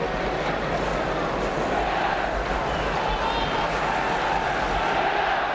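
A football crowd at a 1969 Swindon Town versus Arsenal match, a dense, steady roar of applause and murmuring from the stands, distant and continuous without clear breaks.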